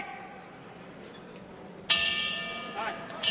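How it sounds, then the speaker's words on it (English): A boxing ring bell rings sharply to start round two of a professional bout, a bright sustained clang that cuts in loudly over a commentator talking and crowd murmur. "The bell for round two."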